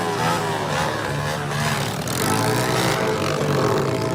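An offroad dirt bike engine roars loud and close throughout as it is ridden, with a harsh, steady, slightly wavering note and no talk.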